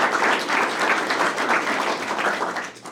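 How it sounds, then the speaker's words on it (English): An audience at a pitch competition semifinal claps for the judges, a steady, moderately loud round of applause that tapers off near the end. "can we give them a round of applause?"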